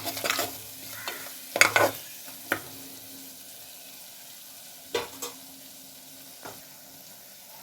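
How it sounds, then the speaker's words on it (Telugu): Chettinad chicken masala is stirred in a pan over a soft, steady sizzle, with a few scattered scrapes and clinks of the spoon, mostly quiet and close. "ఇప్పుడు ఇవన్నీ బాగా కలుపుదామండి, పచ్చి వాసన పోవాలి."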